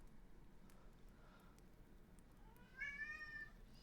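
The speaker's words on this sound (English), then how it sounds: "I should not have brought my cat with me to this Airbnb." A house cat meows indoors in a quiet room, one clear drawn-out call near the end, close and moderately loud over faint background hiss.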